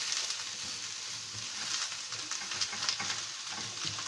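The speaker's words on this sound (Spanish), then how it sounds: "Lo vamos a sofreír con lo poquito de... Vamos a poner el champiñón." Sliced mushrooms sautéing in a pan with a little oil for squash blossoms, a steady close sizzle with scattered stirring clicks throughout, no voices.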